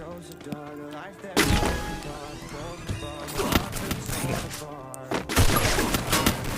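Kar98 rifle shots and a shotgun blast ring out in a shooter video game, a few heavy bangs spaced a couple of seconds apart over game music, with someone talking throughout.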